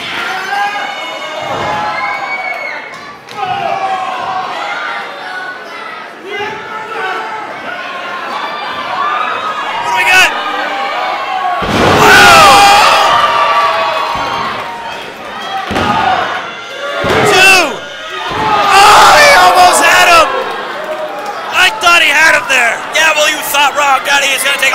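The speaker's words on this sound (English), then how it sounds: "Crowd showing their appreciation for this matchup and for Chris Cook's guts" A wrestling crowd at an independent show roars and cheers, loud and sustained, with bursts of shouting and sharp slams and thuds rising and falling over about twenty-five seconds.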